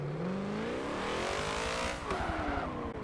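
A 1993 Ford SVT Cobra R Foxbody on a drag tune in Forza Motorsport 7 revs hard at launch, its engine pitch climbing steadily, with tire squeal and skidding mixed in, loud and sustained throughout.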